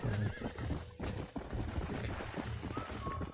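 A horse whinnies and its hooves clip-clop in Red Dead Redemption, with the hoofbeats running steadily throughout and the whinny loud near the start.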